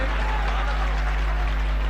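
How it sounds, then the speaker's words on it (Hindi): Audience at a mushaira giving sustained applause for poet Hashim Firozabadi, a dense, even wash of clapping from a large crowd filling the whole moment. "ढेर सारी तालियां जनाबे हाशिम फिरोजाबादी के लिए"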